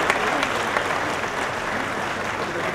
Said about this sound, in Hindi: ये तालियां रुकनी नहीं चाहिए